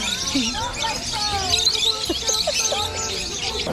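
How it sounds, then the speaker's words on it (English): Nine or so small birds perched on a woman in Waikiki chirp and squabble nonstop, a dense, busy chatter of overlapping tweets and squeaks heard up close throughout. "She had like 9 birds on her at one time."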